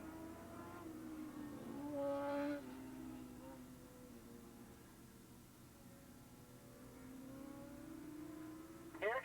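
Racing motorcycles on a track, led by a Yoshimura Suzuki in a Formula 2 race at Willow Springs International Raceway, a steady engine drone with a rising rev around two seconds and a sharp burst at the end, distant and under crowd-level noise.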